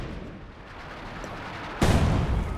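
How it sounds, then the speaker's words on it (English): An artillery barrage in Company of Heroes 2 lands on a machine gun position as a steady rumble, then one loud, heavy blast near the end. "Barrage forcing the machine gun away"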